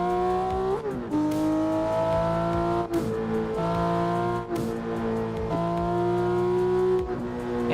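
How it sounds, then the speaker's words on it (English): Porsche 911 GT3 engine in a racing game, a loud, close tone that climbs through the revs and drops at each gear change, repeated several times with no talking. "I'm driving the Porsche 911 GT3."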